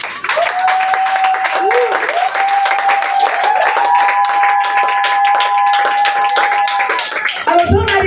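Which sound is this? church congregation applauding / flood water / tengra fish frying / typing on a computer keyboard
church congregation applauding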